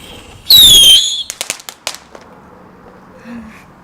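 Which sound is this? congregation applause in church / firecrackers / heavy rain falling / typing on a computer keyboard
firecrackers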